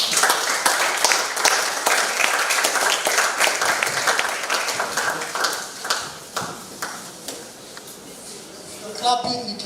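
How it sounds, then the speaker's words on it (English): Audience applause at an artificial intelligence conference, dense overlapping claps with a few sharper individual hits, sustained for several seconds before thinning out near the end. "Clapping, you can still do it."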